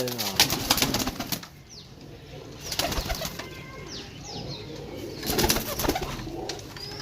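Racing pigeons are handled and checked, wings flapping in sharp bursts while soft coos rise between them, close by, with people talking over much of it.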